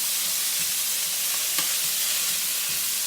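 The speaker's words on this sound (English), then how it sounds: "Add your vegetables and you toss it around." Vegetables stir-frying in hot oil in a skillet for a shrimp and pineapple stir fry, a loud continuous sizzle with soft tossing sounds and a brief utensil clink midway.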